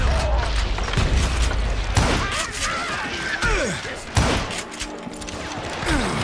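Western gunfight in Call of Juarez: Gunslinger, with repeated loud gunshots and booms cracking out irregularly over several seconds amid mechanical clatter, and voices shouting between the shots.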